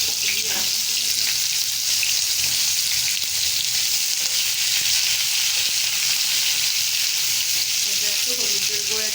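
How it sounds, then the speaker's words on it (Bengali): Raw tomatoes fry in a pan with a loud, steady hiss and crackle throughout, with occasional faint stirring scrapes. "কাঁচা টমেটোগুলো একটু ভেজে"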